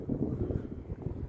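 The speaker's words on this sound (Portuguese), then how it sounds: "E o vento, né, aqui é muito intenso." Strong wind blows at Cerro Sombrero, Chile, gusting in a low, rumbling roar across the microphone, steady and close throughout, with no other sounds.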